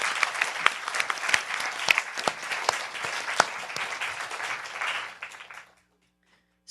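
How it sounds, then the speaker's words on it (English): An audience at a panel on nuclear weapons and peace applauds the speakers, dense steady clapping from many hands that carries for about five seconds, then fades to near silence. "please join me in giving a round of applause for these speakers"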